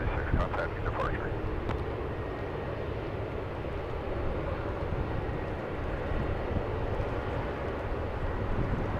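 A Turkish Airlines Boeing 787 Dreamliner taxiing on a taxiway at Los Angeles International Airport, a steady broad engine drone heard from a distance beneath faint airport ambience, with brief ticks near the start.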